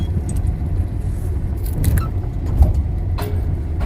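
A car rolls into the parking lot at Netaji Subhas Chandra Bose International Airport with a steady, close engine and road rumble. A few light clinks and rattles sound over it.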